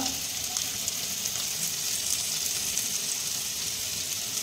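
Chopped ginger, onion, onion greens and carrot with garlic sizzle in hot oil, a steady, close, dense crackling hiss that holds evenly throughout with no voices.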